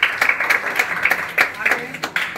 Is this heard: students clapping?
yes